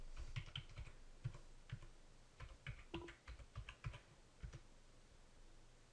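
Login credentials being typed on a computer keyboard, a quick irregular run of close, light key clicks with short pauses between bursts, quiet and free of talk.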